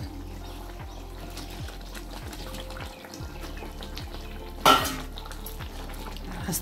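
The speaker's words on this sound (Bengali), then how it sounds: "ঝোলটা ফুটে উঠেছে এর মধ্যে দিয়ে দেবো আমি এবারে বাঁধাকপি ভাজাগুলো" Fried cabbage pieces dropped into simmering gravy in a pot, a steady low bubbling with a brief clatter and splash of utensils as they go in.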